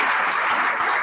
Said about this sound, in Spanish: Denle el aplauso al Señor.